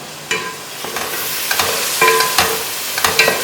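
Onions frying in a pan for a home-cooked mustard chicken, crackling sizzle broken by repeated sharp scrapes and clanks of stirring, loud and close throughout.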